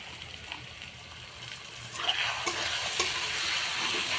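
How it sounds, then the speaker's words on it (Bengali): Onion and ginger frying with spices in a pan, a continuous close sizzle with scraping stir strokes that grow louder and busier partway through, with no talking. "মশলাটাকে কষিয়ে নেব।"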